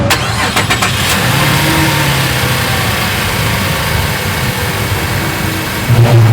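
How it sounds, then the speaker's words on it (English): A car engine cranks and catches, then settles into a steady rumbling idle close by, with another brief revving surge near the end. "I'm gonna go start the car."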